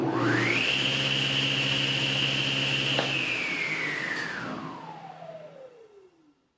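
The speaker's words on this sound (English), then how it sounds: "The first thing I notice is the sound of the motor stops before the blade stops." A table saw motor runs up to a steady high whine, then cuts off, and the spinning blade keeps going as the pitch slides down for a couple of seconds until it stops.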